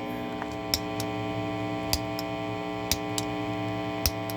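Guitar delay pedal footswitch on a D'lay EZ tails mod, clicked several times at irregular intervals through an amp with distortion cranked, each a sharp faint tick over a steady electrical hum.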